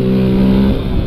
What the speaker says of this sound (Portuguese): Dá aquele reduzidão pros caras verem que está vindo